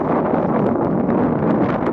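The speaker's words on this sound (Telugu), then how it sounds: "చల్లటి గాలి, వాతావరణం సూపర్ ఉంది." Cool wind gusting across an open farm field in a village, a loud, steady rushing roar buffeting the microphone throughout with no voices.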